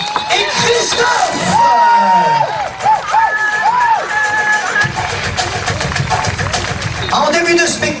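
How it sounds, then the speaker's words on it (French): Crowd at a pow-wow show cheering and applauding, with shouts, whoops and whistles rising over steady clapping, loud and lively throughout. "Je voudrais également des applaudissements pour David, Wambly, Brice et Christophe."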